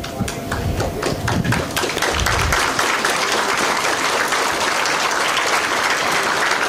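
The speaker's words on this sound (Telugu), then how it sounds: "మీ అందరూ లేచి నించుని మీ తల్లిదండ్రులను క్లాప్స్ కొట్టండి ఒక్కసారి." Medical graduates stand and applaud their parents at a college graduation ceremony in Srikakulam: loud, dense clapping from a large crowd fills the hall steadily throughout, with no voices over it.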